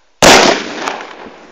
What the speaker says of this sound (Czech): A petarda.